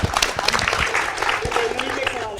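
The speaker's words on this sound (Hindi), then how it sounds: "जोरदार तालियां इस सवाल के लिए" A television debate audience breaks into applause for a question, dense clapping with a few sharper claps standing out, steady and fairly loud across the whole stretch.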